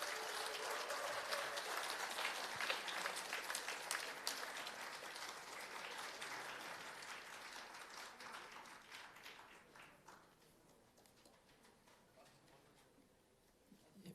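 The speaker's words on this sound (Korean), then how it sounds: "큰 박수로 환영해 주십시오." Applause from a large audience welcoming a speaker at a Korean political party acceptance event, dense clapping heard from some distance that gradually fades to quiet scattered claps.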